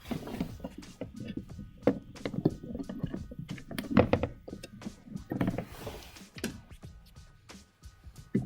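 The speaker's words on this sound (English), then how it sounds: "I'm going to push these pins in so they click." CPU cooler pins pushed into a gaming PC motherboard, giving a series of soft close plastic clicks and thunks scattered through handling noise, with a louder snap near the middle.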